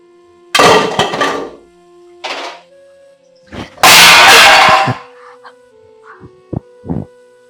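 Metal cooking vessels clang and bang together in a household setting, with several loud, separate impacts that leave bright ringing tones hanging between them, then a few shorter knocks toward the end, with no talking.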